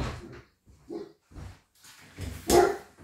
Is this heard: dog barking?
yes